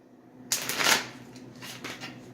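A deck of Angel Answers oracle cards being shuffled, a quick papery riffle that starts abruptly, swells into a dense flutter, then tapers into a few softer shuffling flicks, close and clear with no talking.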